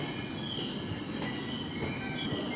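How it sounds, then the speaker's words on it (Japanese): Japanese Shinkansen bullet train pulling out of a station, a steady broadband rumble and rail hiss with faint high wheel squeal, continuous for the whole stretch with no voices. "まあ、とか言ってるうちに新幹線出てっちゃいましたね。"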